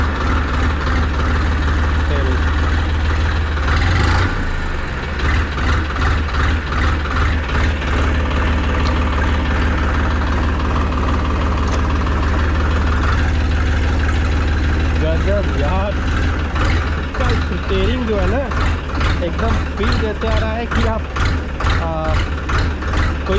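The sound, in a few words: Massey Ferguson tractor engine idling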